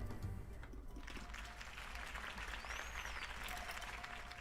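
Steady crowd applause in the video game Telltale's Batman, Episode 1, fills the whole stretch, dense and continuous, with faint whistling tones drifting above it.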